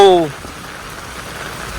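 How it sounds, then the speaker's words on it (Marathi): Heavy monsoon rain pours in a steady, dense hiss that fills the clip, starting right after a short burst of a voice at the very beginning. "पाऊस काय थांबत नाही"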